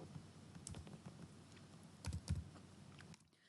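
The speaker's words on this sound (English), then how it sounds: "Suppose I am going to press Ctrl, Shift and greater than angle from my keyboard" Keyboard shortcut keys, Ctrl, Shift and greater-than, pressed on a computer keyboard while formatting text in MS Word; several soft clicks and taps, with two louder key presses near the end, close and alone.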